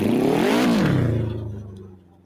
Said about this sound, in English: Is that a motorcycle engine,